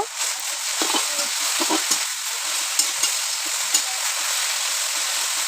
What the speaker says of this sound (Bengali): লবণটি দেওয়ার পরে আর একটু ঘাটা নাড়া করব